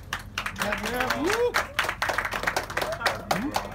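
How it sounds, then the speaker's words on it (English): A cinema audience at a screening of an exclusive reel for the Tupac biopic All Eyez on Me claps in scattered bursts while voices talk and whoop over the noise. "Let's clap it up."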